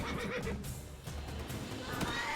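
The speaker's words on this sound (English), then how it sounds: "And the horses braying." A short horse whinny from the video game The Witcher 3: Wild Hunt rises over a noisy background of clatter and distant commotion.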